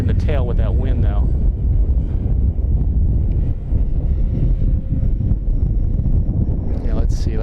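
Strong wind at an RC plane flying field buffets the microphone as a steady, loud rumble throughout, with a voice talking at the start and end.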